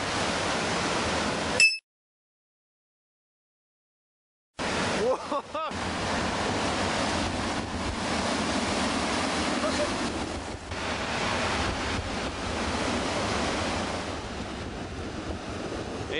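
Surf rolls onto a beach at the lowest tide of the year as the tide advances swiftly, a steady broadband roar with a brief gap partway through, close and fairly loud.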